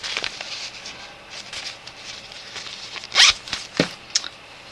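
A zipper on a small makeup bag is opened in a few quick rasping pulls, close and fairly loud, with soft rustling of the fabric between pulls and no talking.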